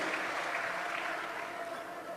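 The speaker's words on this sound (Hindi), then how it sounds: "जोरदार तालियों से उनका अभिनंदन करें" Audience applause welcoming a swami at a religious gathering in Prayagraj during the Maha Kumbh, a dense, steady wash of clapping from a crowd, slightly distant and gradually easing over two seconds.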